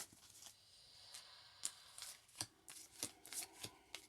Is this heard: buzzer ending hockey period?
no